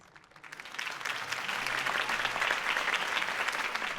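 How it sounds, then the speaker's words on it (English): Crowd applause at a political campaign rally in the Batman Telltale video game, a dense wash of clapping that swells up within the first second and holds steady and loud. "If only Mr. Wayne, my campaign's largest backer, could have heard that applause"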